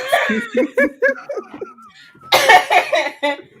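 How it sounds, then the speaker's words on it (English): A woman's fit of laughter with short cough-like bursts, a brief quiet gap, then another burst of laughing coughs, close and fairly loud. "That's why she's coughing right now."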